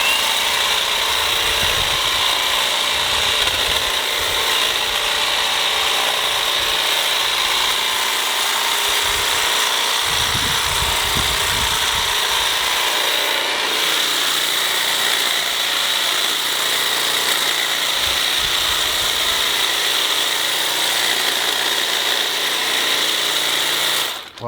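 A Milwaukee M18 cordless articulating hedge trimmer cuts boxwood bushes, its blades buzzing loud and steady up close, with brief crunching surges as branches are sliced.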